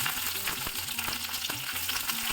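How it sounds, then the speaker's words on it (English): Mustard seeds, red chili flakes and curry leaves temper in hot gingerly oil, making a loud, dense frying crackle with quick spitting pops throughout. "Let us temper this in gingerly oil, adding 1/4 teaspoon of mustard seeds, red chili flakes, curry leaves."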